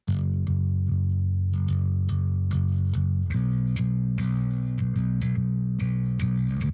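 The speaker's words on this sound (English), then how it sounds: "And I recorded it through my Dark Glass Microtubes B7K." Yamaha bass guitar recorded through a Darkglass Microtubes B7K preamp, a full, slightly gritty rock tone playing a steady line of plucked notes, upfront and sustained, with no talking.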